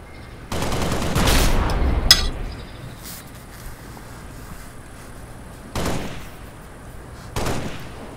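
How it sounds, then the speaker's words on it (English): Gunfire in Halo: Reach, several short loud bursts with quiet stretches between them, no talk over the shots. "What I do is shoot at the cone."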